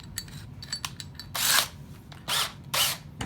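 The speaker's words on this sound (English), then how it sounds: "Now I'm going to use the 1/2 inch drill." A 1/2 inch drill boring into a small hand-held wooden piece, with three loud, broadband bursts of a few tenths of a second each. Quieter clicks and handling noises come between them, and no one speaks.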